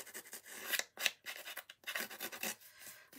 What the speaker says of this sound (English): So let's distress the edges with my scissors.